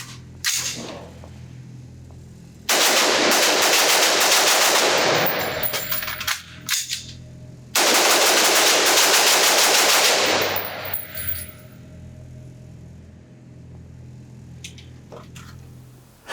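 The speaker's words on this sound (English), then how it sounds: "I can still shoot it pretty fast, it just doesn't have that even rhythm." Two long bursts of rapid semi-automatic rifle fire from an LMT New Zealand Reference Rifle with a two-stage trigger, loud and close at an outdoor range, each burst lasting about three seconds with a slightly uneven rhythm and a short pause between.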